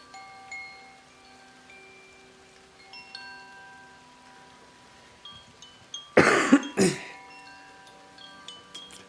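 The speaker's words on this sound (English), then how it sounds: "I'm recovering from a cold, so I have a little bit of a cough." A person recovering from a cold coughs twice in quick succession, close and fairly loud, over a quiet bed of soft sustained ringing tones like a sound bath.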